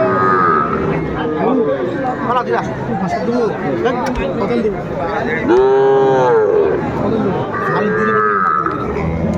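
Young bull calves moo loudly and repeatedly, close by, over a busy crowd of chattering voices at a livestock market in Aftabganj.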